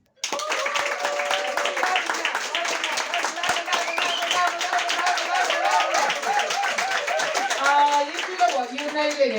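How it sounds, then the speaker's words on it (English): A stand-up comedy crowd claps on cue, a dense, lively patter of many hands that runs steadily close by, with voices and cheers mixed in among the clapping. "Okay, let's do some clapping. CK, do your best clapping."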